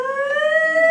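A voice imitates a police siren with a steady, rising wail, loud and close, with no other sound around it.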